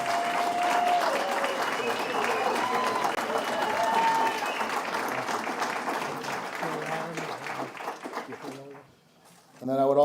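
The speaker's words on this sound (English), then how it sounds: "Please give one last round of applause for the 2018." Audience applause at a Hall of Fame induction ceremony fills the room steadily for several seconds, then fades to a brief lull before a fresh burst at the very end.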